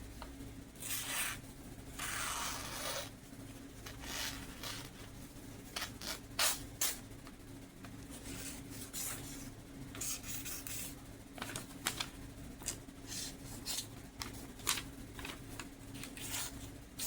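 A sharp knife slices a sheet of yellow paper torn from a pad, giving repeated short scraping and rasping strokes over a steady low hum, fairly close and quiet, with no talking.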